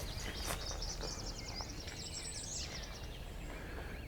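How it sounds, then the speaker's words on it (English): An American redstart, a warbler, sings outdoors on a spring bird walk, a short series of thin high-pitched notes repeated several times over steady low background rumble, faint and fairly distant. "So we're hearing an American redstart sing, which is a type of warbler."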